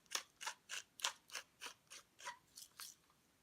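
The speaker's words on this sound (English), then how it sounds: "We are going to ground up some pepper in there." A pepper grinder cranks peppercorns over a food bowl in ten or so quick, evenly spaced crunchy bursts, close and fairly quiet, with no talking.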